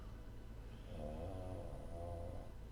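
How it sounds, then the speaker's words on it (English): Soft, slow snoring from a sleeping dog, low and steady, faint against a quiet room hum. "that's my dog Louie snoring"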